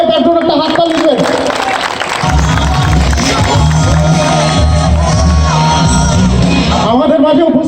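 An audience at a Suzuki GSX-R 1000 launch event in Bangladesh breaks into loud, sustained applause and cheering, with shouts and whoops over a clamorous crowd and a voice on a microphone.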